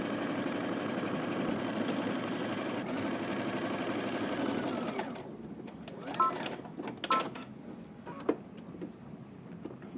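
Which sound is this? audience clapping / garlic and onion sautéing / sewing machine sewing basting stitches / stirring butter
sewing machine sewing basting stitches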